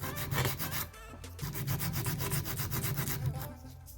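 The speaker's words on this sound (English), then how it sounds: "So you're basically coming in with this file to remove the bulk product from underneath" Nail file rubbing against built-up nail product on a practice hand, a close, steady rasping scrape in fast back-and-forth strokes, with one brief pause, no talk.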